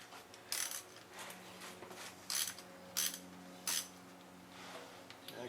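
A ratchet cranks a bolt down on a Yamaha Virago, giving short bursts of clicking pawl strokes at uneven intervals, close by and fairly quiet, with faint shop background between the strokes.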